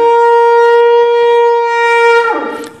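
A single long, loud, steady tone from a horn or trumpet sounds as the tekiah hagadol, the final blast of a Yom Teruah service. It holds evenly close to the listener before breaking off at the end.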